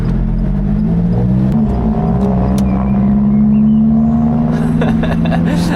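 A VW Golf with an upgraded valved sports exhaust drives along, producing a loud, close, steady low drone that swells slightly as it accelerates.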